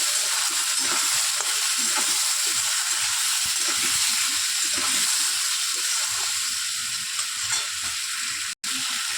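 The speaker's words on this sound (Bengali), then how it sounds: "এবার একটু নাড়াচাড়া দিয়ে কষিয়ে নিই" Spice paste for tilapia curry frying in oil with a little water, sizzling loudly and continuously while a spoon stirs and scrapes the pan, with a brief break near the end.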